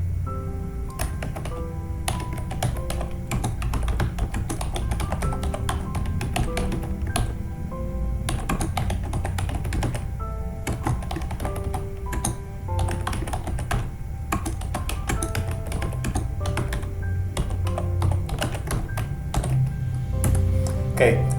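Steady, rapid typing on a computer keyboard while working in Microsoft Word, close and continuous with clustered key clicks and occasional heavier keystrokes for about twenty seconds, with faint background noise.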